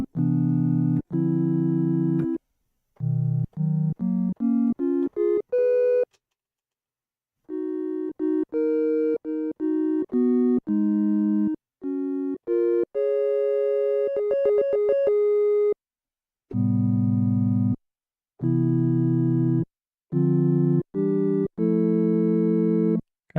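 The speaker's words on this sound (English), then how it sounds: "let's go ahead and try starting with a sine wave on this one" A Roland Gaia SH-01 synthesizer plays a pure sine-wave tone in short held notes and quick stepped runs, loud and clean with brief silences between phrases, no voices.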